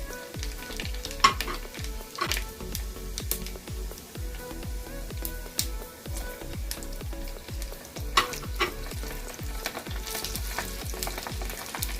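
Cumin seeds sizzle in hot oil on a low flame as a tempering for khatti dal, with garlic to follow. A steady, loud frying crackle runs throughout, broken by repeated rhythmic scrapes of a stirring spoon.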